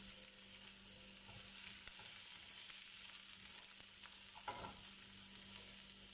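Onion, green chili and garlic sizzle steadily in a pan for carrot thoran, a continuous close frying hiss with a brief stirring scrape partway through.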